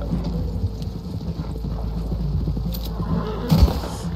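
Horses galloping in the video game Red Dead Redemption 2, with rapid rhythmic hoofbeats that pound steadily and close over a low rumble, swelling louder near the end.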